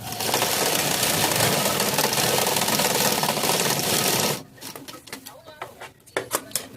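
A sewing machine runs loudly and continuously while stitching Patiala pants, a dense rapid mechanical whir that stops abruptly after about four seconds, leaving light handling clicks and rustles.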